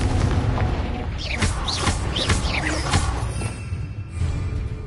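Blasting spell explosions in Hogwarts Legacy, several sharp booming bursts in quick succession with whooshing trails over a rumbling combat backdrop, loud and close, with a player shouting the spell names.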